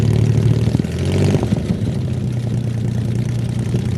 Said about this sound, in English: I like the way the Jaguar sounds.